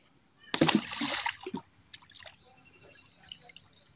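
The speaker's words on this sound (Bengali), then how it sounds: "মা বলছে এই কাঠ কয়টা ধুইতে হইবে" Water splashes over pieces of wood being washed outdoors, one loud burst of pouring and splattering followed by scattered faint drips and small knocks.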